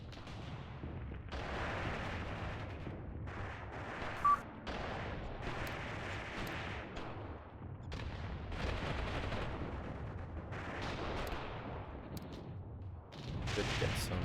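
Distant explosions and gunfire in the World War II game Mius Front, a grenade blast among repeated booms and rattling shots rolling through a long firefight at moderate loudness.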